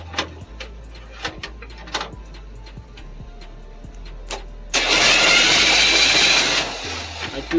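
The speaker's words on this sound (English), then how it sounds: "I wanted to see if it'll crank, and it does crank." 1962 Chevrolet C10 short-bed truck engine cranking over on the starter, preceded by scattered clicks and taps, then a loud steady churning crank lasting about two seconds before stopping.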